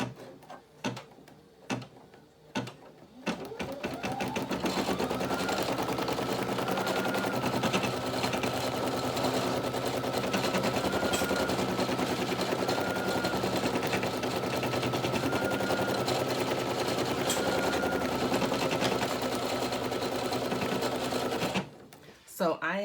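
A Brother PE800 embroidery machine stitches a first project, a loud, fast, continuous mechanical rattle. It starts after a few clicks and runs steadily for about eighteen seconds before stopping.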